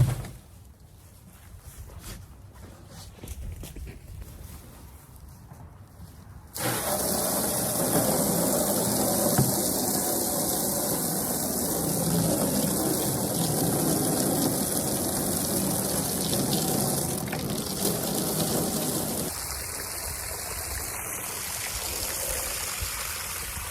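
Water gushes steadily into a goat's water trough, a loud continuous rushing flow that starts abruptly and holds at an even level before easing slightly near the end.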